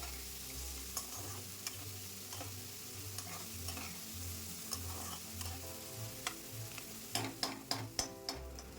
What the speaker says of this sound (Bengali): পেঁয়াজ কুচি তেলের সাথে ভালো করে নাড়াচাড়া করে হালকা করে ভেজে নেব